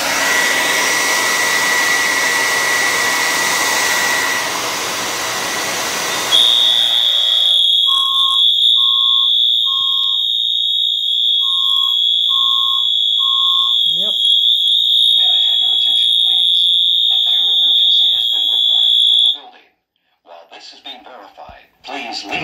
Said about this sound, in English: I'm going to test the heat detector.